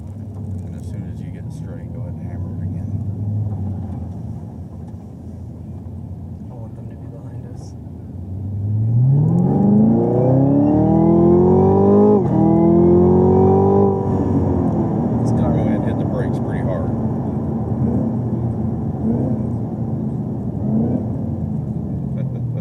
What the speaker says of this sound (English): downshifting. It sounds like it's a manual.